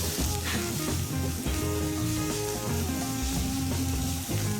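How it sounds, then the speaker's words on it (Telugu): Ingredients frying in a pan for a vanjaram fish curry, a loud, steady close sizzle lasting throughout with light stirring. "ఇవి కూడా పచ్చివాసన పోయే వరకు వేపుకోవాలి"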